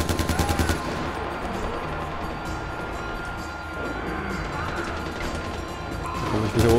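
Sustained gunfire from a Far Cry 4 firefight fills the clip continuously, loud and dense with rapid shots and crashes throughout, with a heavier burst at the start and another at the end.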